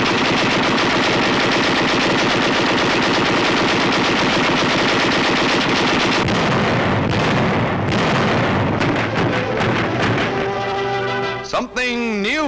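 Anti-aircraft artillery at the Fort Bliss training school fires in loud, rapid, continuous bursts that sustain close and dense, thinning toward the end into scattered shots and a whistling sweep.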